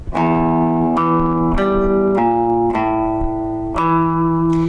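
Guitar riff played slowly, with about six plucked notes ringing out one after another at an even, unhurried pace.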